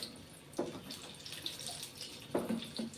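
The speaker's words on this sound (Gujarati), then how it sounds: "તો હવે આપણે આમાં ઠંડુ પાણી એડ કરશું" Cold water is poured over freshly boiled noodles in a kitchen, a fairly quiet run of water with a few splashy bursts and drips, no talking.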